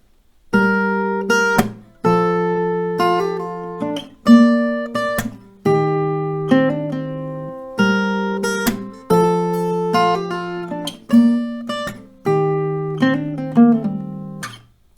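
Acoustic guitar strummed chords with sharp percussive slaps on the strings, a steady rhythmic pattern of about two strikes per second, close and clear.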